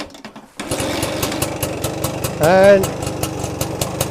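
A 1967 BSA Bantam D10 175 motorcycle kicks into life and settles into a rapid, steady two-stroke putter close by, with a short rev partway through and a brief spoken word over it.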